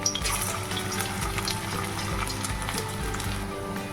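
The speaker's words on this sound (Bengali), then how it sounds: "এটা লাল লাল করে ভাজবো মুচমুচে হবে চালের গুঁড়ো দিয়েছি" Banana-stem fritters coated in rice flour frying in hot oil, a continuous bubbling sizzle with a watery, crackling texture that stays steady and close throughout, without any speech.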